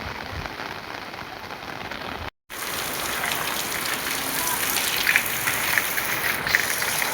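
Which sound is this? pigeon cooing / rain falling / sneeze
rain falling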